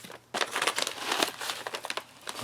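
A simple plastic bag from a 2015 Austrian ration day pack being handled close by, starting after a brief quiet moment with a burst of sharp, irregular crinkles and crackles that continue unevenly to the end.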